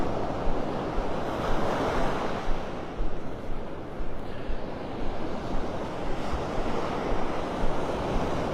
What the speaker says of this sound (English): Beautiful beaches here in Naples, but I prefer the beaches that look like this here.